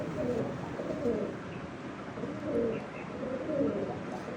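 Soft, low cooing from pigeons repeats in a loose rhythm over a steady background hum, fairly close and moderately loud.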